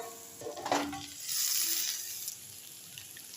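Paste of ground ginger, garlic, whole cumin and green chilli hitting a hot pan of figs, a brief sharp sizzle and stir followed by a softer hiss that fades, close up, no voices.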